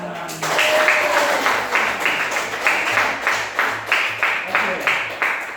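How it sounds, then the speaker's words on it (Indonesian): Rhythmic group clapping in a classroom after a call for applause, steady beats about twice per second, fairly loud and close, with a brief tonal voice or whistle near the start. "masa tepuk tangan"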